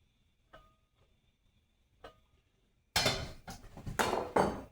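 A metal wok being set down and handled on a stovetop in a small college kitchen: two light clanks, then a louder burst of scraping and clattering metal near the end.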